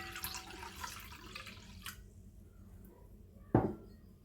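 Warm water poured from a kitchen tap for bread dough, a faint trickle that fades out, followed by one sharp splash or clink near the end.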